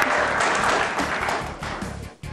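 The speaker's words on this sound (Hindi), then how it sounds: "तालियां होनी चाहिए दोनों नौजवानों के लिए" A studio audience at a cricket talk show applauds, a dense burst of clapping that holds steady and then tapers off near the end.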